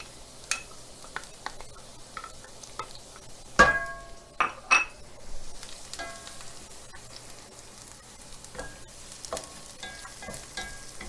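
Sun-dried tomatoes, garlic and shallot sizzle softly in a pan for penne, with stirring and several sharp clacks of a utensil against the pan, the loudest cluster in the middle, then quieter sizzling.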